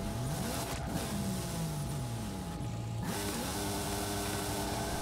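Cars racing in a video game, several engines whining and revving at once, pitches sliding down and climbing again in a continuous close roar.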